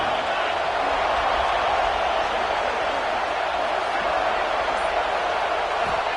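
Home crowd noise in a college football video game, a steady, dense roar of cheering held at an even level throughout with no clear breaks or peaks.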